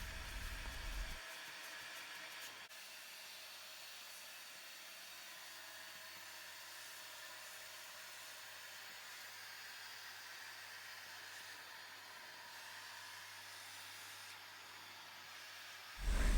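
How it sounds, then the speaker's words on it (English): A vacuum cleaner hoovers baking soda off a mattress, giving a steady, even whooshing roar that runs almost unbroken from start to finish after a brief louder burst at the beginning. "Then we can hoover them all up now."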